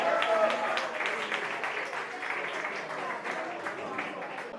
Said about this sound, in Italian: Un applauso ancora a Nunzio!